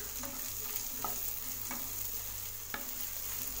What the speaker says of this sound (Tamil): பெரிய வெங்காயத்தை இதில் ஆட் பண்ணிக்கலாம். ஆட் பண்ணி இது ரெண்டையும் வதக்கி விட்டுறலாம்